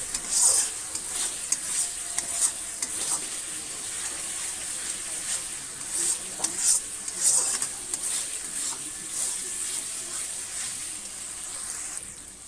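A spice paste for jackfruit curry, loosened with water, sizzles steadily in a pan while a spoon scrapes and stirs it in repeated strokes, close and moderately loud, with no talking.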